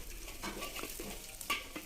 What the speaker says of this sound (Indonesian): Ini kita tumis sampai berbau harum.